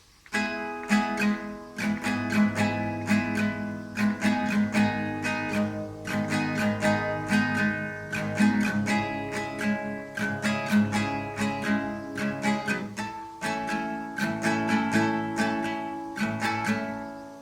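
Acoustic guitar strumming the chorus chords of a song, with rhythmic down-up strokes ringing out in a steady repeating pattern, close and clear, with no voices throughout.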